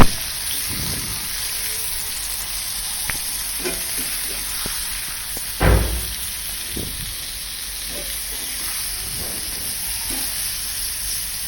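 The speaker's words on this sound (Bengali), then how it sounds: "তারপর সেদ্ধ করা কলার মোচা দিয়ে কিছুক্ষণ ভেজে নেব" Boiled banana blossom frying in a pan for a banana blossom fry, a steady close sizzle with occasional scraping stirs and one louder clatter midway, no talking.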